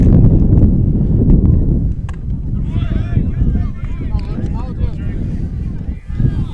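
Heavy wind, 18 mph with gusts to 40 mph, buffeting a microphone at a high school baseball game, low rumbling gusts throughout, with someone talking underneath.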